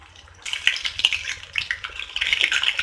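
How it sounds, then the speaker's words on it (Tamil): Kerala-style Thiruvithangur chicken fry in hot oil, pieces turned with a metal utensil: bright clinks and scrapes against the pan over a low sizzle, in busy irregular bursts. "2 சைடும் டர்ன் பண்ணி எல்லா பக்கமும் ஈவனாக ஃப்ரை ஆகணும்"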